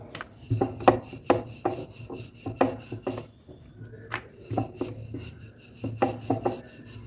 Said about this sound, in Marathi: एकदम पातळ अशी चपाती लाटून घ्यायची